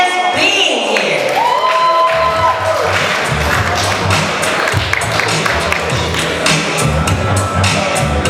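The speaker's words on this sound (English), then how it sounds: "Let's give everyone a round of applause for just being here." A crowd at a community business-week event on Long Island applauds and cheers, dense clapping with whoops mixed with amplified music and a loud, busy hall sound.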